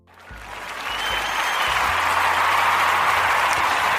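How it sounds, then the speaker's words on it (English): A crowd's round of applause swells quickly from silence and holds as a full, even roar of clapping in a room, with a low hum underneath. "let's give a round of applause"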